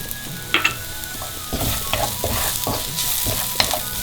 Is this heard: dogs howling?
no